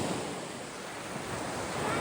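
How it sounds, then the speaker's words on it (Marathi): Sea waves break steadily on the shore at Malvan, a continuous loud wash of surf with wind buffeting the microphone and no voices. "लाटा लय भारी भारी येतात."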